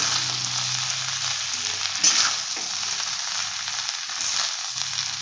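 Vegetable fried rice sizzles in a pan while it is gently lifted and turned, a constant bright hiss with a few soft scraping clicks partway through and no talk.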